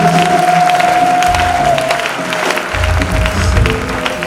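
A church congregation claps and cheers in a sustained, even wash of applause, loud and near, while a single held keyboard note rings through the first half.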